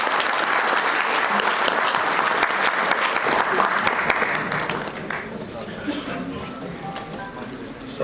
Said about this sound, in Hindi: हमारे एमडी कमल सर का स्वागत कीजिए, तालियां हो भरपूर